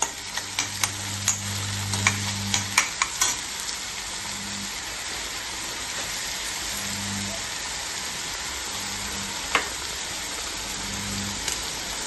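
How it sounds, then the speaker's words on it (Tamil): Green chilies and onion sizzling as they sauté in a pan, a loud steady crackle with a few utensil clicks and brief speech-like murmurs underneath. "2 பச்சை மிளகாய், வெங்காயம் போட்டுட்டு நல்லா வதக்கிட்டு கொஞ்சம் செவந்து வந்ததுமே"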